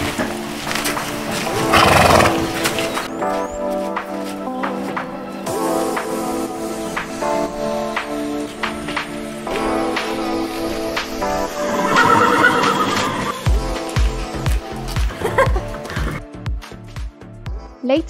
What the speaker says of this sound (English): Feeding the horses.